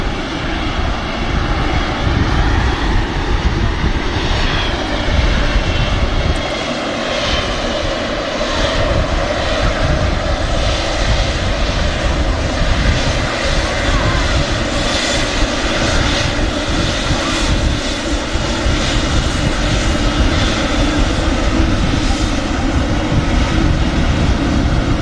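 Aircraft engines at Manchester Airport give a steady, loud, broadband roar that holds without letup for the whole stretch, with no voices over it.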